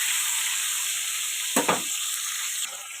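Pieces of pointed gourd (potol) frying in oil in a pan give a steady bright sizzle, with a short scrape of stirring midway and no talking.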